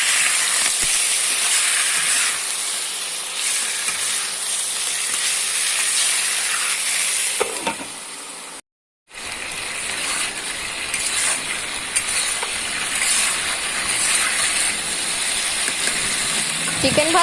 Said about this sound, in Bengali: চিকেনটাকে উল্টে পাল্টে ভেজে নেব।